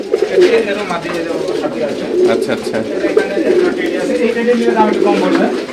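Teddy pigeons cooing steadily on a pigeon farm in Durgapur, Rajshahi, a dense throaty murmur from many birds close by, running under a voice throughout.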